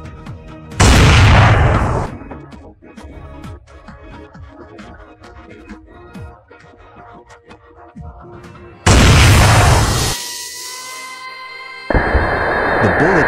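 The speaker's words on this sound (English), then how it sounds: "The bullet tore through the bottle, blew the valve apart, and sent it flying." A gas bottle bursts apart when hit by an armor-piercing round, its valve blown off: two loud, heavy booms several seconds apart, each with a long rumbling tail, and a further sharp blast near the end.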